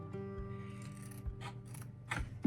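Scissors cut a piece of clear window material for a model brick warehouse building, with a few crisp snips and rasping cuts close by against a faint hum.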